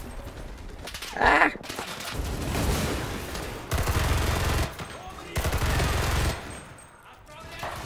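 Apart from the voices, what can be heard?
gunfire in the video game Enlisted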